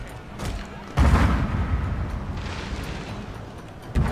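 Cannon fire and fire rounds boom in the Otomo video game, with one heavy blast followed by a rumbling spread of explosions, a fainter burst earlier, and another hit at the end.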